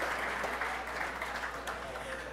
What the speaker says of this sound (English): Give Ron a big round of applause for that.